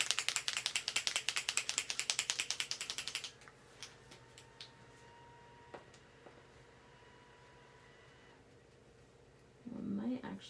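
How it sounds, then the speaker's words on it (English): A capped marker pen shaken hard in a rapid rattling burst of about a dozen quick clicks, then quieter room noise with faint small knocks and a brief louder rustle at the end. "Let's put the cap on and shake it up a bit."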